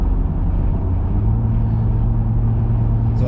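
A Jeep Gladiator driving a bumpy, winding mountain road, heard from inside the cab as a steady low engine and road rumble with no speech.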